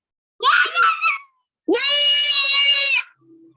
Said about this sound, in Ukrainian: Діти, не кричіть, дітки, не кричіть, а відповідайте спокійно